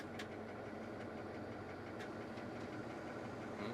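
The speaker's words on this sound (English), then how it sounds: "blower motor came on." A blower motor in a 1987 Ford F350 with a 6.9 IDI diesel runs as a steady, even whoosh, blended with the rough rumble of the idling engine close by and a few faint clicks.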